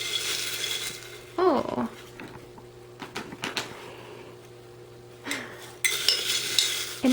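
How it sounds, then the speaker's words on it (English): Spoon stirring a homemade cereal treat mix of Cheerios and Total in a bowl, making scattered clinks and scrapes against the dish, with a brief spoken exclamation. "I'm just going to take my spoon and mix that all together."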